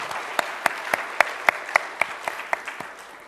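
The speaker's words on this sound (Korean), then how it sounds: "영광의 박수로 올려드리겠습니다." A church congregation claps in unison, about a dozen loud, sharp claps in a steady, slightly quickening beat over a faint room background, with the final few softening as the clapping trails off.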